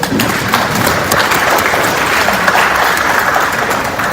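Loud, dense applause from a large audience at an MSME and start-up business summit, a steady wash of many hands clapping that holds at full strength for the whole stretch with no voices over it.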